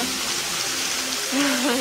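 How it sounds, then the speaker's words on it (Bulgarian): Steady broadband rush of a waterfall heard from close by at its base, a continuous even roar with a voice briefly audible over it toward the end. "Аз съм долу на водопада в момента."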